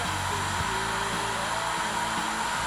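Heat gun running steadily to shrink heat shrink tubing over braided cable sleeving, a close, constant blower whine and airy hiss with a faint hum underneath and no talking.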